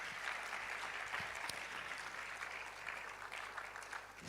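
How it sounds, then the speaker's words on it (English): A lecture audience applauds after a public talk in a hall, with soft, steady clapping heard at a distance and at low volume, with no speech over it. "Another round of applause for her."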